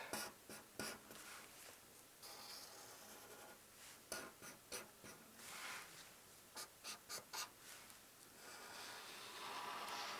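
A pencil scratches across paper while an Easter bird is drawn for a craft, in close, quiet strokes. Rhythmic bursts of rubbing come and go, separated by short pauses.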